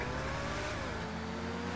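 A car engine in Grand Theft Auto drones and revs steadily for a moment, a low buzzing motor tone that shifts pitch partway through, with no talk.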